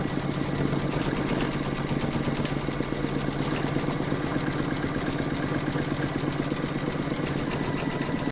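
An embroidery machine stitches a quilting round on an in-the-hoop Christmas fabric coaster, a steady, rapid mechanical whirr and clatter that runs without pause from start to finish, close and even, with no talking.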